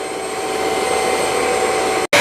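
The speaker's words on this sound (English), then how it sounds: "if you want to go around and just vacuum up your floor first and not mop, this is how it works" A Bissell CrossWave wet-dry vacuum runs in vacuum-only mode with a loud, steady motor whine and airflow hiss that cuts out for a moment near the end, then resumes.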